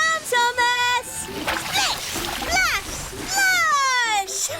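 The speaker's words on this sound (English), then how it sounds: "Muddy water splattered everywhere." A cartoon splash of muddy water from a toy-train children's show sprays and sloshes loudly, mixed with whistle-like tones and a voice speaking over it.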